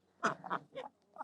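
Ducks feeding on a mix of corn and layers pellets give several short, close, nasal quacks in quick bursts, with brief gaps between calls.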